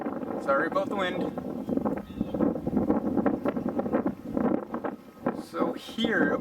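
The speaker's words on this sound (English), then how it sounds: "Sorry about the wind." Wind buffets a microphone outdoors while someone paints the roof of a school bus being converted, giving continuous low rumbling gusts that rise and fall.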